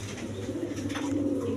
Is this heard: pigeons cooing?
yes